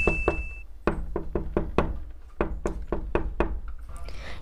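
Knocking on a door at midday in a miniature tiny-food household scene: a rapid series of sharp, close knocks in quick groups, loud and alone with no talk.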